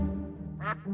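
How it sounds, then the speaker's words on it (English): A duck gives a single short quack, a brief nasal burst near the end, set against a soft sustained background in an animal-sound guessing game. "It's a duck."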